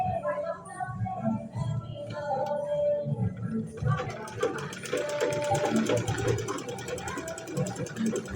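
A Bangla-type sewing machine stitches the mouth of a garment sleeve cuff, its busy mechanical rattle running steadily for several seconds, close up and partly under talking.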